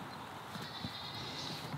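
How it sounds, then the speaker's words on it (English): Sheep and goats bleat a couple of yards away beside a horse paddock, a steady, fairly loud outdoor bleating with a broad hiss of background noise and no voices over it. "I think a sheep and goats over there somewhere."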